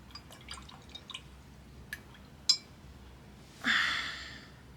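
Water dripping during a Temu paint swatch test, a few small scattered drips followed by a brief sharper splash and a short wet hiss, all fairly quiet and close.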